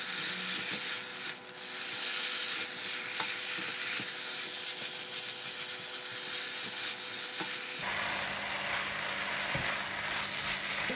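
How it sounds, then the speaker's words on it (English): Bean sprouts and choy sum stems stir-fry in a hot wok, with a steady sizzle broken by scraping stirs and clatter that continue throughout, and no voices. "Stir fry until the bean sprout and the choy sam stem is slightly soft."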